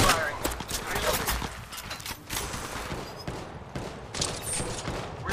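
Rapid bursts of gunfire from Apex Legends Mobile crackle continuously across the whole stretch, dense and fairly loud, with overlapping shots and clatter in a heated firefight.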